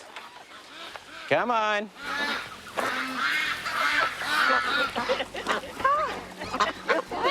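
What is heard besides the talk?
ducks quacking while being fed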